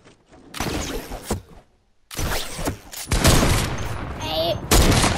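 Heavy sniper rifle shots in a German-language 1v1 video game match: several sharp, loud cracks and bursts with gaps of near silence between them, and a voice briefly audible between the shots.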